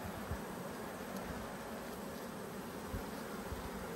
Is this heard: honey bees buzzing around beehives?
yes